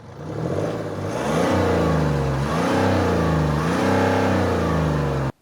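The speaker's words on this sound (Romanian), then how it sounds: "uitați cum sună 3 cilindri diesel de pe BMW" BMW 1.5-litre three-cylinder diesel engine revving up and down in steady surges, close and loud, with a rough mechanical throb throughout and no talk.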